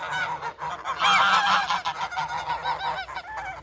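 A group of homestead geese honks loudly and continuously as the birds head out to pasture, overlapping close calls with no talk.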